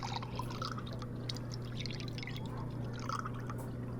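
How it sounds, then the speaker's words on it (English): Milk is poured into a cup in the VR video game Job Simulator, a continuous splashing trickle with occasional drips, moderately close and steady over a low background hum. "Pour some milk in there."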